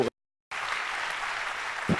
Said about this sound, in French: on applaudit Monsieur le ministre